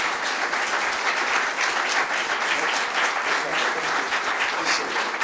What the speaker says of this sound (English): How about a round of applause for everybody?